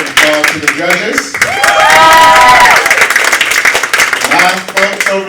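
A high school poetry slam audience applauds the judges, sustained clapping and cheering from a crowd with voices mixed in throughout.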